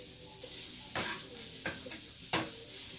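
Sweet potatoes sizzle steadily in a frying pan while being stirred, with three distinct scraping strokes of the utensil breaking through the constant hiss.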